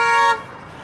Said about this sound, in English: Honking.